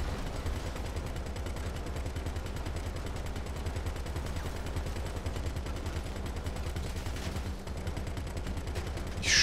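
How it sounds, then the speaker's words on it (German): Steady rapid gunfire from GTA Online, a dense automatic stream of shots running loud and continuous from start to end with no voices over it. "Ich schieße jetzt einfach auf alles"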